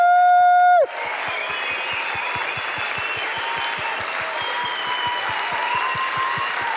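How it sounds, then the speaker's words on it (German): A Christmas stage show audience bursts into sustained, dense applause right after a held musical chord cuts off, the clapping steady and full-room for several seconds. "darum dürft ihr noch mal gerne klatschen"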